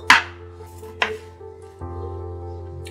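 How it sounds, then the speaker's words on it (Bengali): A knife chops through tomatoes on a board, two sharp cuts close together followed by a softer clack, close and alone with no talk. "টমেটোগুলোকে ভালো করে কাট করে নেব।"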